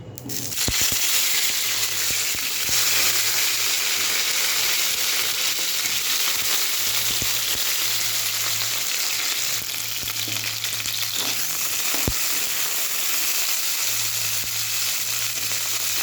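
Cauliflower pieces fry in hot oil in a home kitchen, a steady loud sizzle and crackle filling the whole stretch, with a low hum and occasional stirring clatters underneath.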